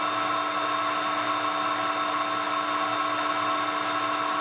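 A 9.5mm drill bit boring through metal, a steady high-pitched whine with a constant tonal hum, loud and uninterrupted for the whole stretch.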